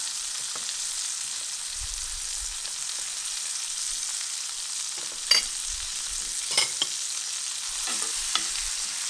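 Butter sizzles and fries in a cast iron pan alongside a pan-seared steak, a steady hissing crackle close by with occasional sharper pops and brief stirring or utensil sounds, no talking.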